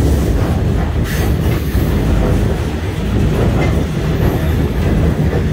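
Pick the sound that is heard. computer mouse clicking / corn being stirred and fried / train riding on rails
train riding on rails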